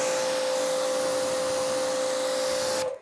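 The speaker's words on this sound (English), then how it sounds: "having a high-performing pressure washer like this is fantastic" An ACTIVE 2.3 electric pressure washer runs with a steady, loud motor whine and rushing hiss that stays constant for about three seconds, then cuts off abruptly at the end.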